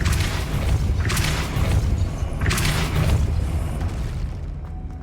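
Two booming force-blast bursts from the Depulso spell in the video game Hogwarts Legacy, loud and close, rising over a dense low rumble of game sound, with no talking.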